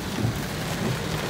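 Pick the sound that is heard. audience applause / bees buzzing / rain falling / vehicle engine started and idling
rain falling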